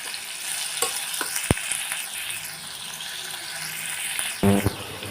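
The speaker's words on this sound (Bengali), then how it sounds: "তেলটা গরম হয়ে গেছে এবার চিংড়ি মাছগুলোকে আমি একে একে এর মধ্যে ছেড়ে দিচ্ছি" Prawns dropping into hot oil one by one, a continuous bright sizzle broken by a few sharp clicks and a louder burst of spitting near the end, close and without talk.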